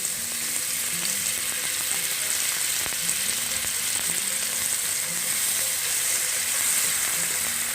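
Spice paste frying and sizzling in a pan over lowered heat while being stirred, a steady close hiss with occasional scraping clicks throughout, no talking.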